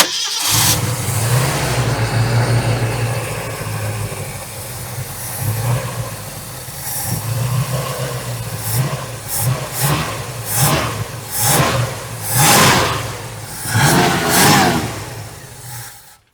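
A 1969 Ford Mustang V8, long stored and reluctant to keep running, is cranked and started, then revved in repeated rising bursts that fade back toward a rough, uneven idle.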